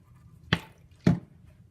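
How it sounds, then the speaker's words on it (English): Contact lens solution activator dripping into a slime mixture: two brief, quiet wet drips about half a second apart, close and alone with no talk. "Take some activator. I have contact lens solution, and pour some in"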